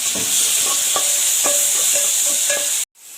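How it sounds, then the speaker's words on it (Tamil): Crushed pepper, cumin and garlic sizzle loudly in hot oil in a pan for rasam, a steady close frying hiss with a few light stirring taps, cut off abruptly near the end. "மிளகு, ஜீரகம், பூண்டு இதெல்லாம் நுணுக்கி வச்சோம்ல அதை சேர்த்துக்கோங்க. சேர்த்துட்டு நல்லா வதக்கணும்."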